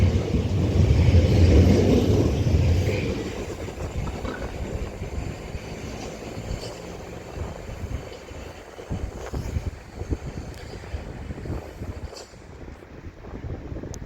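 Doubled-up Great Western Railway class 387 electric trains pulling out of Reading station on the Great Western Main Line, a loud low rumble that eases into a steady rolling clatter with wind noise across the microphone.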